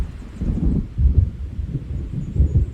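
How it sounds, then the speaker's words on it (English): Low rumbling thunder from an approaching storm in the video game Alan Wake Remastered, rolling in uneven swells across a couple of seconds, moderately loud with no voices over it. "It seems there's a storm coming."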